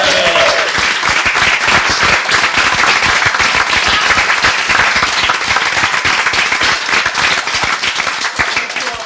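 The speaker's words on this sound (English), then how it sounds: "we owe a big round of applause to our director" Loud, dense applause from an art center audience honoring their director, sustained and close throughout, with sharp individual claps standing out within the roar.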